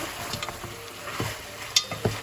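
A spoon stirs ginger-garlic paste into goat curry in a pan, giving soft scraping strokes and a few sharp clinks against the metal over a quiet sizzle.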